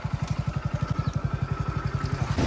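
A motorcycle engine idles close by, chugging in a rapid, even rhythm that swells slightly at the end.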